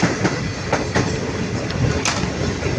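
GreenLine Express train rolling through a loop line in Pakistan while a cargo train waits on the main track: steady rumble with rhythmic clickety-clack wheel beats and periodic rail clanks, loud and close, no voices.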